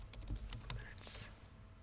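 Short burst of computer keyboard typing while working in Microsoft Word 2016: a quick run of close, crisp key clicks ending in a slightly longer press, with no voice.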